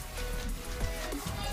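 Steady rain patters and hisses on surfaces outdoors in Jamaica while fish roasts yard-style over a fire, a dense, even wash of drops with no talking.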